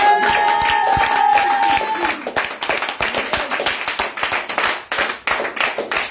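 A congregation at a revival prayer and teaching meeting in Yopougon breaks into loud, dense, sustained clapping after a brief sustained tone opens the moment, the rapid handclaps continuing steadily to the end.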